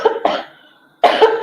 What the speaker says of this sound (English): all of a sudden my allergies want to go up and I'm coughing